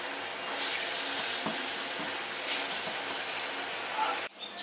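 Ripe banana and coconut fritter batter fries in hot oil with a dense, continuous sizzle and a few brief scraping stirs, ending abruptly; no talking.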